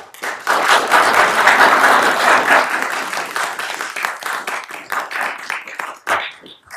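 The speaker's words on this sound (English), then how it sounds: "Another round of applause for Hannah." Sustained applause from a conference plenary audience, dense clapping that swells early and then gradually thins out toward the end.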